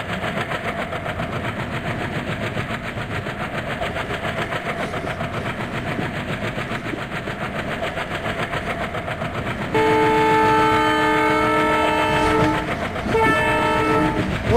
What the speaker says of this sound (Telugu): ఓ, అట్నుంచి ఒక ట్రైన్ అయితే వస్తుంది గైస్.